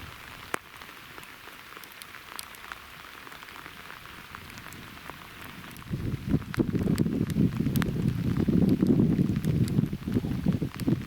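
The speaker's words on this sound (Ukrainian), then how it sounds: "оцей дощик накрапає" Light October rain patters steadily on the Desna River with scattered sharp drips, growing denser and louder partway through, no voices present.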